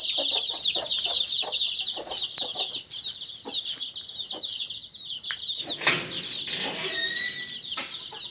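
A flock of 25-day-old gavran country chicks clucks and peeps continuously and close by, busy overlapping chirps with a brief burst of wing flapping near the end.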